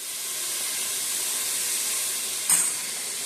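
Food frying in a little oil and ghee for a Bengali pulao, a steady broad hiss throughout with a brief louder spit of sizzle near the end, no talking.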